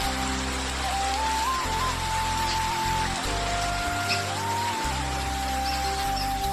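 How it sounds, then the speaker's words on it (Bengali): Steady rain patters and hisses throughout, with a droning tone and intermittent low hum running beneath it. "এত বৃষ্টি কত সুন্দর করে হচ্ছে, জল টই টই করছে চারিদিকে।"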